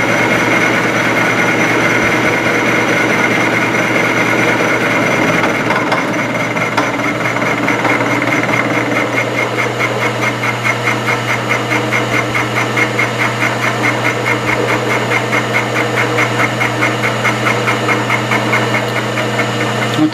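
A milling machine cuts with a high-speed steel 1.5-inch four-flute end mill at 106 SFM, a loud steady motor drone that settles into a rapid, rhythmic chattering grind as the cut continues.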